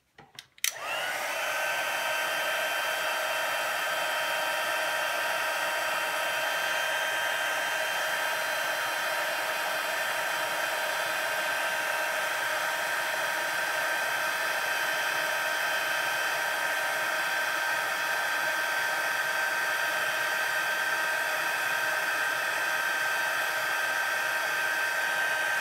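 A heat tool heat-sets embossing powder on a card, starting with a click and then blowing a loud, continuous, close hiss of hot air that holds steady for the whole stretch.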